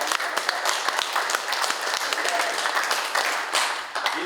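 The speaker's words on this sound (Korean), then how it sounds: "빌리 그레함에게 한번 박수를 보냅시다" A church congregation claps for Billy Graham, a steady, full round of applause with some sharp individual claps standing out, continuing evenly throughout.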